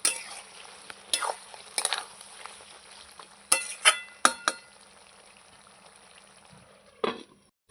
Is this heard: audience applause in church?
no